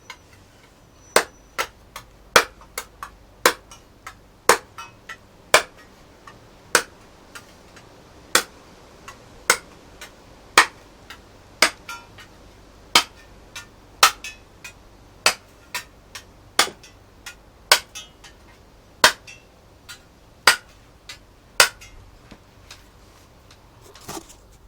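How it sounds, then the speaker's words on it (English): Hammer and nail knock holes into a metal lid meant as a stove's false bottom: sharp, ringing metallic strikes in a steady series, about two dozen evenly spaced blows, close and loud over a quiet background. "knock a bunch of holes into your false bottom"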